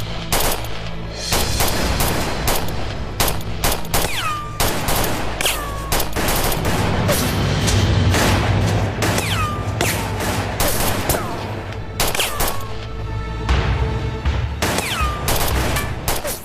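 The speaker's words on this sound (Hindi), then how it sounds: "गोलियां चलाओ, फायर करो, जल्दी करो।" Rapid bursts of gunfire crackle repeatedly, loud and close, with sharp shots layered over a dense rumbling backdrop.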